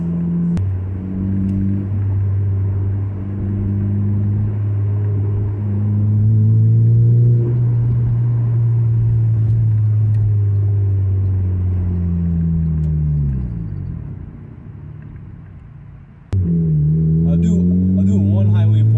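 A 2011 Acura TSX engine drones loudly and steadily on a highway, its pitch climbing and dropping through gear changes as it pulls hard at speed, with a voice briefly audible.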